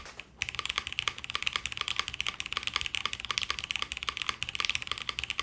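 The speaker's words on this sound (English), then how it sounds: "These diamond switches are indeed quite nice." Rapid, steady typing on a mechanical keyboard fitted with diamond switches, the Alexa keyboard, with dense, crisp key clicks that begin after a brief quiet moment and carry on close and loud throughout, no voices.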